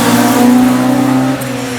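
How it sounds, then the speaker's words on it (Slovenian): A turbocharged Zastava Jugo rally car roars loudly at close range during an autoslalom event, holding a steady high-revving drone before the pitch drops slightly as it eases off. "kot lahko slišimo in slišite, tale zastava Jugo, podkrepljen tudi s turbom"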